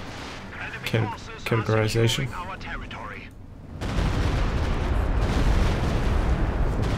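Explosions in the strategy game Company of Heroes 2, including a Stuka dive-bomb strike, as a loud sustained rumbling blast and crackle that follows a stretch of talking.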